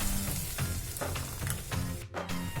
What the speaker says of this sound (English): So I've added the batter to the pan